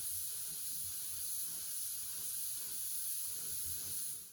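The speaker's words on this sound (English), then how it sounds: "I'm spraying the half coat." A steady, continuous hiss of a spray gun at 30 psi spraying a half coat of paint on a Mitsubishi Evo 6 fuel tank, loud and unbroken for the whole stretch.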